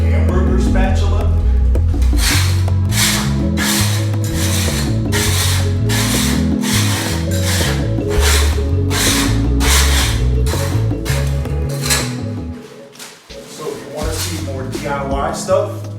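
Krud Kutter is sprayed from a trigger spray bottle onto a wall to strip wallpaper, producing a fast, regular run of short hissing spritzes over a low steady background. The bursts thin out and turn irregular near the end.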